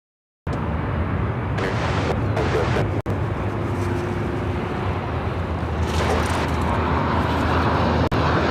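An American Airlines airliner at Chicago O'Hare Airport gives off a steady, broad roar of jet noise that holds throughout, with a brief dropout near the start and another near the end.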